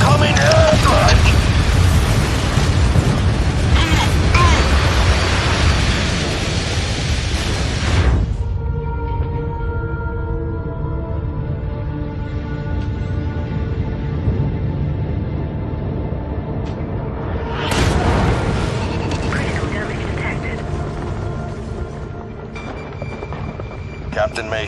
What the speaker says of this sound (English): Incoming airstrike!